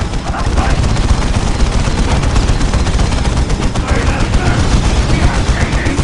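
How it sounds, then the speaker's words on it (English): Rapid, sustained gunfire from a Warhammer 40K Dawn of War Soulstorm battle between Dark Eldar and Space Marine forces, loud overlapping bursts crackling continuously with battle sounds and voiced unit lines mixed in. "We are taking fire!"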